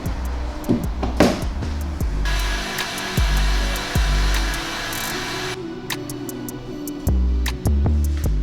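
A heat gun blows onto a damaged car bumper, its steady airy roar running for a few seconds in the middle, framed by low thumps and knocking handling sounds close by.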